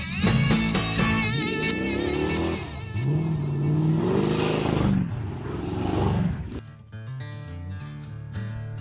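A car engine revs hard while racing, a loud, close roar that climbs and falls through several surging waves and ends in a quick burst of shifting and throttle blips.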